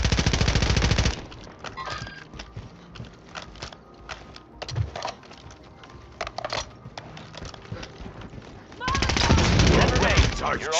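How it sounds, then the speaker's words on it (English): Gunfire in a video game: loud bursts of automatic fire at the start and end, with scattered fainter shots and clicks in between. "Large caliber round here. I'm taking fire."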